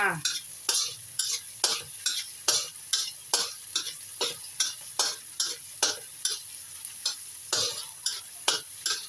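Eggplant stir-fried in a hot pan, a spatula scraping and tossing in a steady rhythm of sharp strokes, roughly two a second, over a continuous close sizzle of frying oil.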